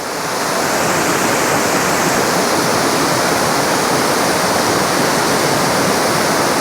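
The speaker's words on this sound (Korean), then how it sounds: "물소리 들리시나요?" A mountain stream pouring out of a rock cliff face in a mossy valley gorge at Mugeon-ri, Yukbaeksan, a loud, continuous rushing roar of water close by with no other sounds.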